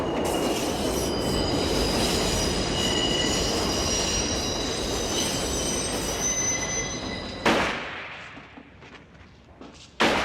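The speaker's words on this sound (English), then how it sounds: "The main thing I love about this scene is the train sound effect." A loud train rumbles and screeches with squealing wheels through the Godfather restaurant scene, a continuous roar that builds and then cuts off abruptly near the end, leaving quieter room sound with a couple of sharp bursts.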